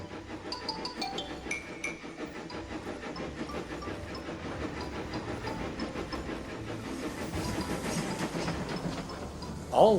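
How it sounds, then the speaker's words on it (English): A steam engine pulls away with its coaches, giving a continuous hiss of steam mixed with rail rumble and rhythmic clicking. The sound is fairly close and builds slightly toward a sharp burst at the end. "The passengers quickly transferred to the little engine's coaches, and the guard blew his whistle. With that, Rex started away."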